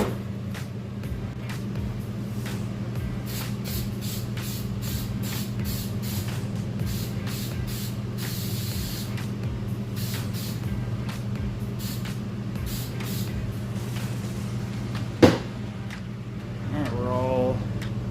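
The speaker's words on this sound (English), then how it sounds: "So we have the Super 77 spray adhesive. We're going to spray this on the back of the sheet" A series of short bursts of Super 77 spray adhesive hiss in quick repetition onto the back of a sheet over a steady low hum, followed later by a sharp knock.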